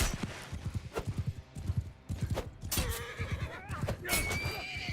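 A horse whinnies loudly with a rising, wavering call in Mount & Blade II: Bannerlord combat, amid close clip-clop hoofbeats and scattered thuds of game action.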